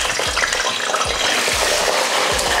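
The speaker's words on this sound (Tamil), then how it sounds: "இப்போ எண்ணெயில் இந்த கத்திரிக்காயை வதக்கி எடுத்துக்கலாம்." Brinjal pieces sizzle in hot oil while being sautéed for ennai kathirikai kulambu, a steady close crackle with a few soft stirring knocks.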